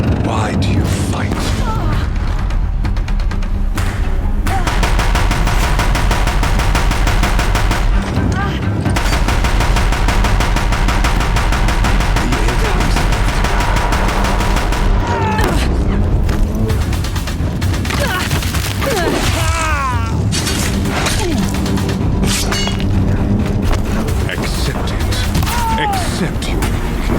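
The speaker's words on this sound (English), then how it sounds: "warriors keep firing, this bridge will go" Sustained heavy gunfire and bursts of automatic fire from warriors shooting during a battle at a bridge in the Horizon Zero Dawn cutscene, loud and continuous with booms, dense and close throughout, with a voice speaking over parts of it.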